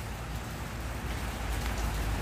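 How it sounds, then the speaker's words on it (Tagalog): Steady rain falls, a continuous broadband hiss with a low rumble, no voices and no gaps. "Kasi ipakita ko yung ulan."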